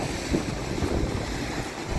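A large flow of water rushes across a mountain trail on the way to Harishchandragad, a dense, continuous roar with gusty wind buffeting the microphone and no voices.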